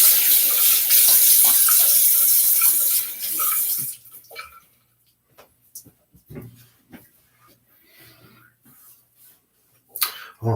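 A safety razor being rinsed under a running tap: a loud steady gush of water for about four seconds, then quieter scattered drips, clicks and handling noises near the sink.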